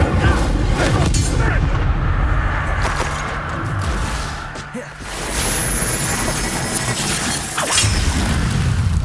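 Incendio fire spell cast in Hogwarts Legacy, a loud roaring burst of flame with crashing booms and rumbling low-end combat noise that dips briefly midway before surging again.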